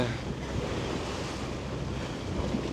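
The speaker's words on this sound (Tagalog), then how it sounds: "Grabe yung alon." Strong sea waves at Boracay, a continuous surging wash of surf mixed with wind buffeting against the microphone, steady and fairly close.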